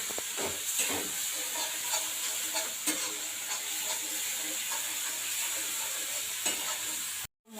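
Chili and turmeric powder fry in oil with sour yogurt in a pan, giving a continuous bright sizzle and hiss with occasional stirring scrapes, close and steady with no talk.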